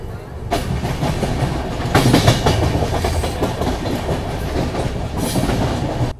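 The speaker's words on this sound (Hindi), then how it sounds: "देख सकते हैं हमारी ट्रेन ने क्या तेज़ी से स्पीड पकड़ी है।" Pawan Express train picking up speed with banker locomotives on the steep Thal Ghat section between Kasara and Igatpuri, with loud continuous rumble and rhythmic clickety-clack of wheels over rail joints, swelling in bursts.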